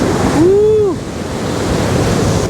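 Steady roar of ocean surf fills the clip, loud and close, with a brief rising and falling whistle-like tone early on.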